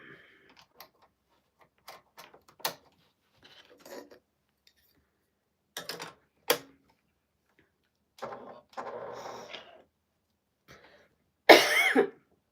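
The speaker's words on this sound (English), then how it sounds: "Wow, I'm having a cough situation." Several separate coughs and throat-clearing bursts, close and fairly loud, spaced irregularly with quiet gaps between, ending in one harsher, stronger cough.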